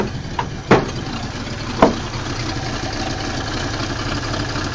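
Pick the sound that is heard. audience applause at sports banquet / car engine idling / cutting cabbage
car engine idling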